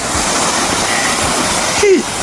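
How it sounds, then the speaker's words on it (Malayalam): Steady broadband rush of water flowing over a waterfall, heard from the top of the falls on a winter hike, continuous and fairly loud, with a brief faint voice near the end. "നമ്മൾ വാട്ടർഫോളിൻ്റെ മുകളിലാണ് നിൽക്കുന്നത് അല്ലേ?"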